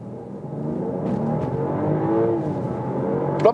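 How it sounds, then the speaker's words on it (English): A BMW X7 40i's inline six-cylinder engine pulls hard under acceleration, a steady rising drone heard from inside the cabin with a smooth, continuous hum and faint tire and wind noise. "That's great sound here from the inline 6-cylinder"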